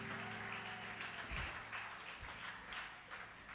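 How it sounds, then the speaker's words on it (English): A church congregation claps hands during a lively worship service, a dense, continuous patter of many hands filling the room at steady volume, with a few sharper bursts standing out. "Clap your hands for your neighbor because they feel left out"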